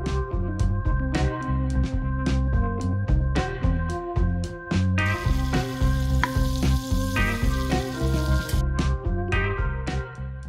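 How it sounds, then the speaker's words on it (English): Butter sizzling and frying in a pan for garlic butter potato fries, a steady crackle close by with intermittent clinks and scrapes of utensils. "In a clean frying pan or pot, add the cooking butter"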